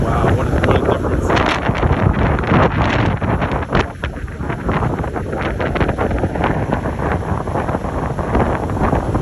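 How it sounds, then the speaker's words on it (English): Strong wind buffets the microphone on Honeymoon Island after a storm, a loud, steady roar with gusty rustling throughout and no break. "Very windy."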